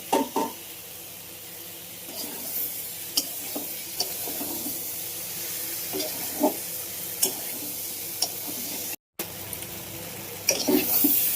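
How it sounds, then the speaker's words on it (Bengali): Potatoes fry with a cooked spice paste in a pan, giving a steady sizzle with repeated stirring scrapes and taps spaced through the clip. It is fairly quiet, with no talking. "আমি আলুটা দিয়ে সুন্দর করে কষিয়ে নেব।"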